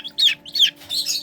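Serama rooster, the world's smallest ornamental chicken breed, giving short, high, nearby calls in a few quick bursts, with a faint steady hum beneath.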